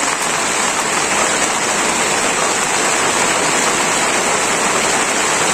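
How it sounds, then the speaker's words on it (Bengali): Sudden heavy rain pours steadily on a village in Manikganj district, Bangladesh, a loud, dense and unbroken hiss of drops striking surfaces close by, with no voices. "হঠাৎ করে বৃষ্টি বন্ধুরা,"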